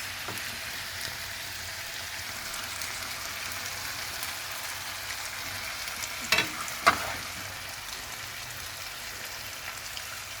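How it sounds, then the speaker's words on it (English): Spelt spaghetti stirred through lotus sauce in a hot pan, a soft continuous sizzle with faint scraping and two brief louder clanks of the utensil midway. "the pasta is going to cook a little bit more as I stir it through"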